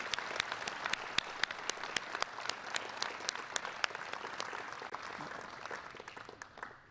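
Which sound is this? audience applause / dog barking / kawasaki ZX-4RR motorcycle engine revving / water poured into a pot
audience applause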